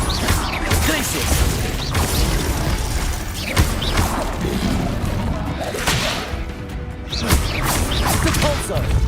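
The Glacius ice spell in a Harry Potter video game gives a busy run of whipping swishes, ratcheting clicks and cracking impacts, dense and loud across several seconds.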